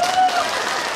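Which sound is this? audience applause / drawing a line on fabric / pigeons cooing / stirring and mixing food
audience applause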